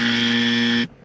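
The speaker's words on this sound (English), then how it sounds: "Hit the buzzer." A game-show style buzzer sounds in a single loud, flat electronic blast lasting under a second, then cuts off abruptly into near silence.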